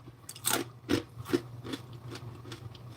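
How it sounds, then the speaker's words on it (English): Crisp, close crunches as a homemade cracker is bitten during a taste test: a few sharp bites with chewing between them, over a low steady hum. "Did y'all hear that crunch?"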